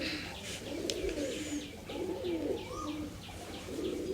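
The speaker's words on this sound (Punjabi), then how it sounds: "ਵੇਖੋ ਆ ਨੀਲੀਆਂ ਕਬੂਤਰੀਆਂ ਸਾਰੀਆਂ ਇੱਧਰ ਬੈਠੀਆਂ" Blue pigeons with white eyes cooing in a loft, their soft, repeated low coos steady and close, with a few higher chirps over them and no talk.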